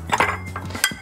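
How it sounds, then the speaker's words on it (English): A large block of ice lands in a glass for a Monte Carlo cocktail, giving a few sharp clinks and knocks close by, with a brief bright clatter near the end and no talk. "next, we're gonna add our large block of ice."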